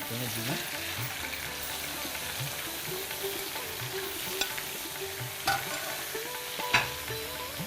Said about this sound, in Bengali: গরম হলে আমরা আগে প্রনগুলো ছাড়ছি, চিংড়ি মাছগুলো ভাজার জন্য আমরা দিয়ে দিলাম।